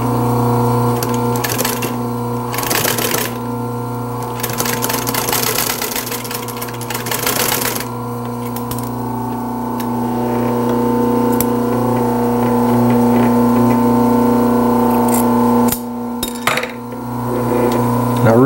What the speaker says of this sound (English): I'll match up the opposite ends and sew these together on a bias. I got my machine set at a small stitch.